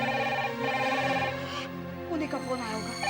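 A household telephone rings in a Hindi family television drama, a steady electronic ring running through the whole moment with faint voices beneath it.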